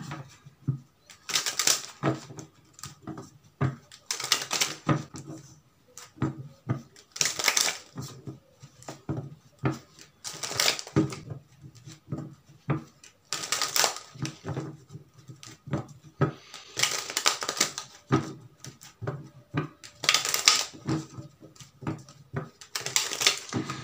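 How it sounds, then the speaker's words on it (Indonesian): Lenormand cards are shuffled and drawn during a tarot reading, giving repeated papery riffling bursts roughly every two to three seconds, close and crisp, with light tapping and rustling between them and no talking. "Kita tarik terlebih dahulu dari kartu Lenormand ini ya untuk para"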